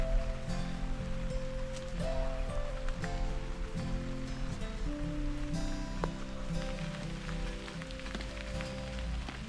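Steady rain patters across a surface, a dense, continuous hiss with scattered drop ticks throughout and no voices.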